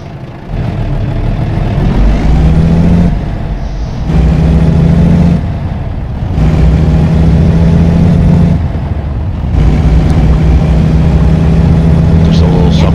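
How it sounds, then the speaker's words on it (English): A heavy truck in American Truck Simulator starts and runs loud and close, its engine droning in repeated long stretches with brief dips between them while a voice talks over it. "All right, start the engine up."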